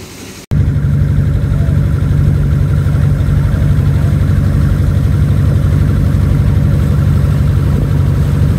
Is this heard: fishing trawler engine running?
yes